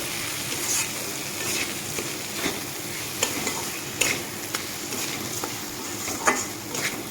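Ground coriander, Kashmiri chilli powder and mung dal being stir-fried in a pan for a vegetarian mung kalia, steady sizzle under repeated clinks and scrapes of a spoon stirring, close and alone with no talk.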